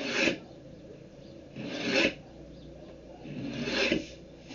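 A nail scratching a mark into a wooden drawer during restoration, three slow rasping strokes spaced about two seconds apart, close and fairly loud.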